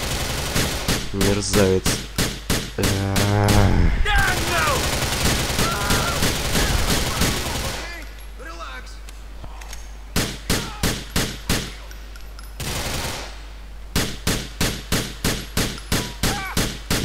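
Pistol fire in Grand Theft Auto IV: loud, sharp shots in quick regular volleys separated by short gaps, with game noise in between and a brief spoken voice.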